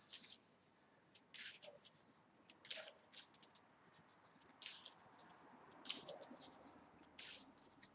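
A deck of Marvel Champions cards is shuffled in a quiet room, a string of soft, crisp riffling bursts and light flicks in irregular rhythm, faint and close, with no speech.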